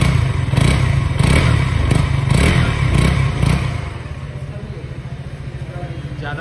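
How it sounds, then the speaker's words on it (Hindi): KTM Duke 200 motorcycle, 2025 model, revving close by: a few quick throttle blips with a raspy exhaust note, then settling back to a steady idle. "और अब इसका एग्जॉस्ट नोट थोड़ा सुना देते हैं"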